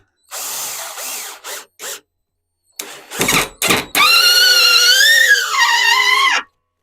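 A 12V Aurora Anton Petrovich cordless screwdriver set to second speed whirs in short bursts, then drives a screw into wood with a sustained rising motor whine, close and loud.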